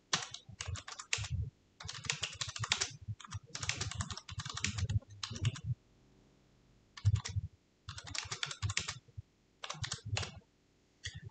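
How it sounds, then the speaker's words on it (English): Bursts of rapid keyboard typing, close and clear, with short pauses between runs of clicking keys. "So here you can just simply start typing."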